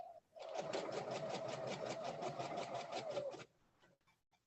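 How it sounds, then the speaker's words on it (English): A sewing machine runs in a steady rapid stitching rhythm for about three seconds, then stops abruptly. "If my sewing machine's too noisy, let me know."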